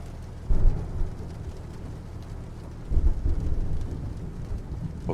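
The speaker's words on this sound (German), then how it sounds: "Der Regen, der was aus die Windschutzscheibe prasselt und das Gewitter dazu." A thunderstorm in American Truck Simulator, with rain pattering steadily on a Kenworth truck's windshield in Texas and two deep rumbles of thunder rolling in, one near the start and another around the middle.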